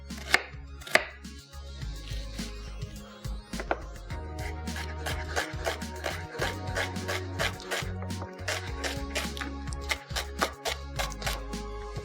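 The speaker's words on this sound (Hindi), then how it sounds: "प्याज ले लेंगे, प्याज को करना है चॉप्ड।" A small onion being chopped with a knife on a board for keema paratha, rapid sharp knife taps in quick uneven bursts, close and crisp.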